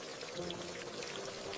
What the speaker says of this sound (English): I take a shower.